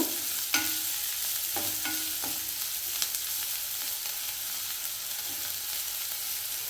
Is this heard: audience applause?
no